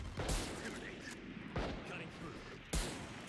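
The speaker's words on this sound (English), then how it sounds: "Just shooting through the smoke randomly" Gunshots in a video game fired blindly through smoke, three sharp reports spaced about a second apart over a dense background of game noise.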